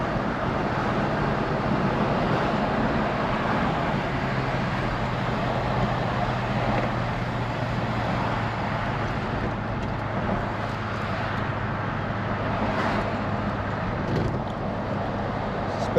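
A 1978 Lincoln Mark V driving at speed on a road gives a steady, low cabin hum of engine and tire noise with wind, constant and smooth throughout.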